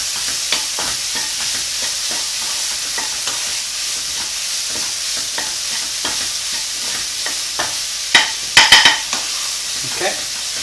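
Piemosa filling, seasoned with salt, sizzles steadily in a pan, with scattered utensil scrapes and stirring taps through the middle and a brief flurry of louder clinks near the end.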